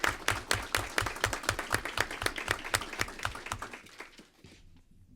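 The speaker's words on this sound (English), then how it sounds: "let's give them a round of applause." Applause at a school board meeting: a crowd's steady, brisk clapping, moderately loud and close, fading out over the last second with no talk over it.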